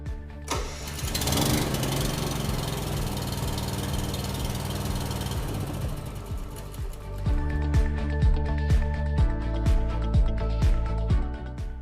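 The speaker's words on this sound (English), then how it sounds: "Once this is complete, we can start the spider's engine." A Monitor spider lift's small engine is cranked and catches, first a dense rattling start, then settling into a steady running chug with regular rhythmic pulses, close and fairly loud, with no talk over it.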